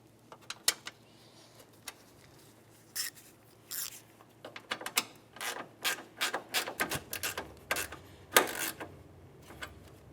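Ratchet tightening the last bolt on a washer reservoir of a 2007-2012 Nissan Sentra, quick rasping clicks in short irregular bursts that grow busier toward the end, close and moderately loud against a faint background hum.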